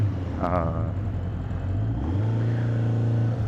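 A customized Yamaha cafe racer motorcycle with a modified engine idles with a steady low rumble, swelling slightly partway through; a brief voice-like sound briefly rises above the engine.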